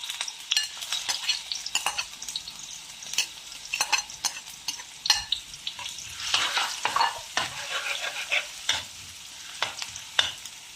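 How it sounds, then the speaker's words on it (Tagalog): Ginger frying in hot oil in a pan while being stirred for dinuguan, a busy crackling sizzle broken by repeated sharp scraping strokes of the utensil, close and fairly loud, with no talking. "ilalagay na natin yung luya"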